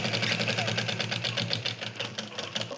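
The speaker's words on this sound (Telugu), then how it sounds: "ఈ చివరనైతే కుట్టు వేసుకోవాలి." A sewing machine runs fast and steady, stitching the end of a trouser leg, its close, rhythmic mechanical whir carrying on for a few seconds.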